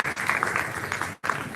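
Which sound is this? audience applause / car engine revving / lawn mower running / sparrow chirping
audience applause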